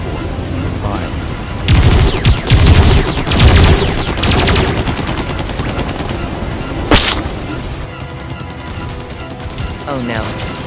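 Spaceships fire lasers in a video game, loud bursts of rapid zapping and crashing blasts over a continuous battle din, with voices talking through it.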